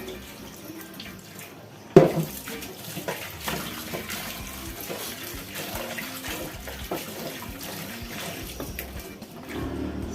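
Tap water runs steadily into a kitchen sink while swamp catfish pieces are washed, with a sudden splash early on, then continuous close splashing and trickling as the fish is rinsed by hand.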